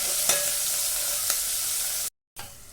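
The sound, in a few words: ginger garlic paste and chili stirred in hot pan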